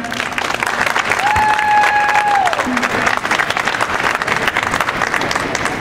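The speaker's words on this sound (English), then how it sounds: "Can we give them a round of applause?" An audience at a live stage event applauds in a steady, sustained wash of clapping, with a brief whistle-like tone rising over it partway through.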